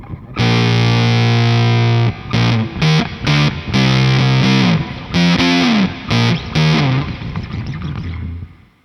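A Cordoba electric-acoustic guitar run through fuzz distortion plays thick, buzzing sustained chords and choppy stabs with abrupt stops, loud and saturated, ending on a fading ringing chord.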